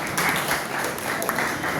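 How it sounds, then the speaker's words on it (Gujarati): An audience breaks into a short, dense burst of clapping at a drama workshop, steady and fairly loud for under two seconds. "તાળીઓ આપણી માટે."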